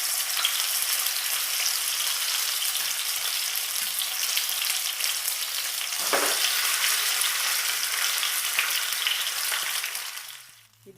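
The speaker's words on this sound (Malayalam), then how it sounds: "ഇനി ചിക്കൻ ഇതിലേക്ക് ഇട്ട് കൊടുത്ത് ഷാലോ ഫ്രൈ ചെയ്തെടുക്കാം" Stuffed, already-cooked chicken shallow frying in oil in a pan gives a loud, steady, dense sizzle that runs unbroken, with a brief bubbling surge midway before it fades out at the end.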